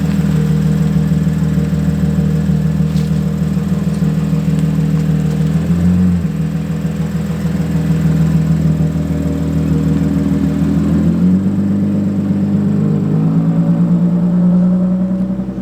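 A car with lettered tires rolls along under steady power, its engine drone and road rumble loud and close throughout, shifting pitch briefly midway and again near the end.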